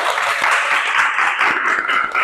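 Classroom applause for a student group coming forward to present, a brief burst of lively, close hand clapping from a room of students, dense and uneven throughout.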